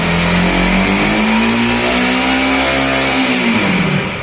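A Bajaj Pulsar NS200 motorcycle engine revs hard up through the range, its loud steady tone climbing and holding before dropping off near the end, close by with no talk.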